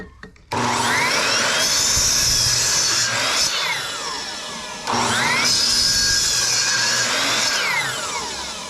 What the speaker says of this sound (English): Now I'm going to try a miter saw. This is 14 amps. Now I'm not going to run this for 30 seconds, but I am going to cut some 2x4s.